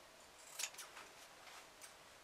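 Scissors trim the excess fabric from the corners of an iPad case in a few quick, crisp snips, close and quiet, with no talking over them.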